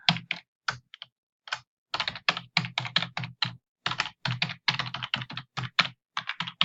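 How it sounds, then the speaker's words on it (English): Typing on a computer keyboard, rapid clusters of close, crisp key clicks in irregular bursts separated by short pauses, with no other sound. "Typing sounds."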